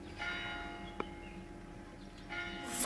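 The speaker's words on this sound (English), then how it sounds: "we'll have to wait for bells to ring again" Church bells ring out on a Sunday in Borca, faint and distant, with a steady tolling texture and a soft background hum.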